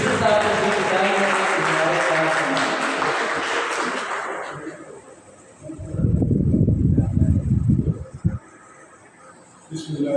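At a book launch gathering, an audience applauds warmly to welcome the deputy commissioner, the clapping filling the first few seconds before giving way to low rumbling noise and a brief return of sound near the end.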